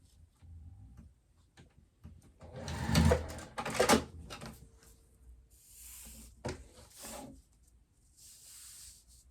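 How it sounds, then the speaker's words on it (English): A sewing machine stitches a double-sided purse strap, running over tape in short bursts with pauses between runs of stitching. "I shouldn't be sewing over my tape at this point"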